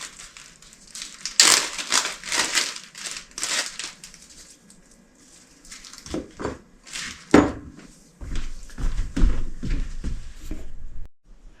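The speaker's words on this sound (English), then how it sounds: "I need to cut up a small piece of onion." Knife chopping a small piece of onion on a cutting board in a home kitchen, a run of sharp, crisp cuts in quick bursts with short pauses between them, close and fairly loud, with no talking.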